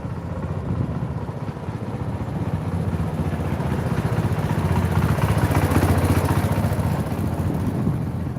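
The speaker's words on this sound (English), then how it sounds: "Love those old tractors." An old tractor engine runs steadily nearby on a rural outing in China, a continuous low throbbing rumble that swells slightly midway, with no talk over it.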